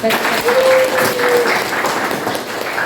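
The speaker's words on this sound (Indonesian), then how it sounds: "Tepuk tangan sekali lagi." A school class applauds loudly and continuously in a classroom, many hands clapping in a dense roar, with a brief whistle-like tone early on and some voices mixed in.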